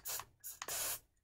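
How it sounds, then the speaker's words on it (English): Hairspray hisses from an aerosol can in three quick, close bursts, the last one longest, with brief silent gaps between them and no talking. "I'm gonna put hairspray on my face."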